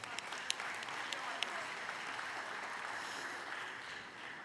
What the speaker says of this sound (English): Let's give Chairman Lee another big round of applause, please.